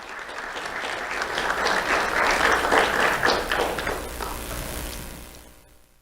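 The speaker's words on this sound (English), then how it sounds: "Let's have a round of applause for Delmar Gonzalez." An audience at a sheriff's office youth awards ceremony claps for an elementary school student, a steady, dense wash of applause that swells in the middle and fades out toward the end.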